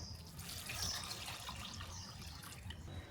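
Water pouring into a basin of hyacinth beans set to soak, a faint steady splashing rush that runs continuously and quietly.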